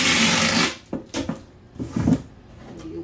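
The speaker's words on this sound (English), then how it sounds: "I use my shipping tape" Brown shipping tape is pulled off the roll and pressed across the folded bottom seam of a cardboard box, giving a loud opening screech followed by shorter tearing rips and rustling presses nearby.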